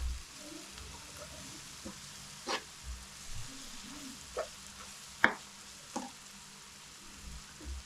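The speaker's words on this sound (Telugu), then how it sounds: "మసాలా అంతా లైట్గా వేగుతుంది." Fish masala curry spices fry lightly in a pan while being stirred, with a faint continuous sizzle broken by a handful of quick scraping knocks, one sharper than the rest, close and quiet with no voices.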